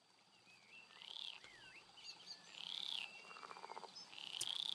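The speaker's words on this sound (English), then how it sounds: "Some of the croaking frogs jump away from your palfrey's hooves and hide under the surface of the river" Frogs croaking beside a calm river with a horse's hooves nearby in the fantasy game Roadwarden, faint chirps and warbling calls rising and falling over a steady hum, with a short burst of rapid pulsing croaks midway.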